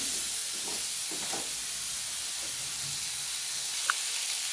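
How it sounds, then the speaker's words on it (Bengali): Cauliflower fries in a pan with a steady, close sizzling hiss that runs unbroken through the whole moment, with faint stirring noises and no talk. "কিছুক্ষণ কপিগুলো আমি একটু ভেজে নেব"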